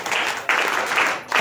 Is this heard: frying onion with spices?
no